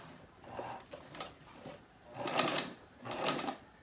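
A sewing machine stitches quilt fabric in several short, close bursts of whirring and needle chatter, separated by brief pauses, with no voices.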